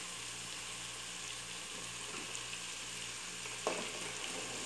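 Catador beans hit a hot pan and sizzle, a soft, continuous frying hiss with a brief clatter near the end, with no voices.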